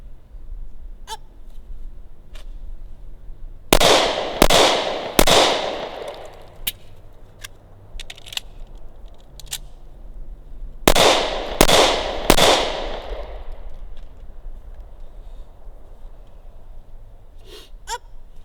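Smith & Wesson Shield 45 ACP pistol fired at targets: two quick bursts of three sharp, loud reports each, separated by several seconds, with fainter distant pops scattered around them.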